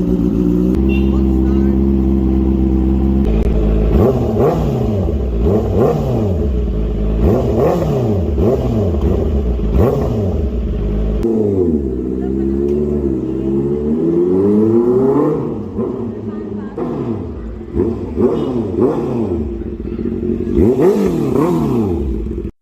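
A car engine fitted with a throttle booster clip cold-starts into a steady loud idle, then repeatedly revs up and falls back in rising and falling sweeps, close by, with people talking over it.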